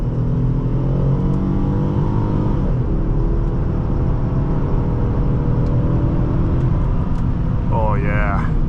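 A 2019 Ford Taurus SHO engine revs up and accelerates hard with a deep, steady turbocharged rumble, loud and close throughout, with a brief voice near the end.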